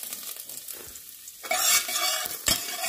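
Sliced ginger dropped into hot oil with cumin seeds, a quiet stir followed by a sudden loud close sizzle that keeps hissing, with a sharp scrape of the spoon near the end.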